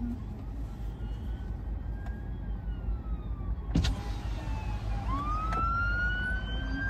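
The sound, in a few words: fire engine siren passing on the motorway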